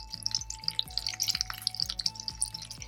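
Dried red chilies, green chili and curry leaves frying in oil with mustard seeds for raw mango rasam, a faint crackling and popping sizzle with soft, regular stirring knocks underneath, no voices.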